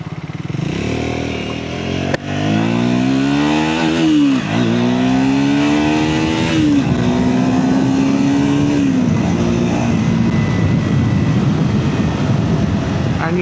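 A Triumph Scrambler 400X single-cylinder motorcycle engine runs loud and close through a U-turn, its pitch rising and falling as the rider rolls the throttle on and off, with a steady rumble throughout.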